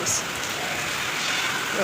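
Rain falls steadily outdoors as a soft, even hiss of drops on surfaces, fairly faint and continuous from start to finish.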